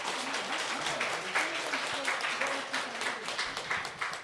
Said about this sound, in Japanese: 参加者の方は大きな拍手の方をお願いいたします。